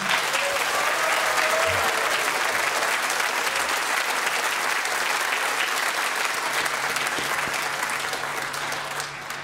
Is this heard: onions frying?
no